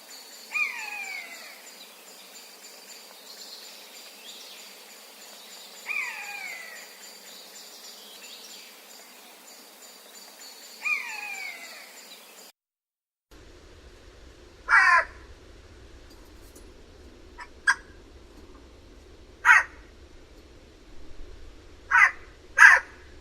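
A jay imitates a buzzard with three evenly spaced, drawn-out mewing calls over a faint outdoor background, then switches to carrion crow impressions: short harsh caws in irregular bursts, fairly close and clear.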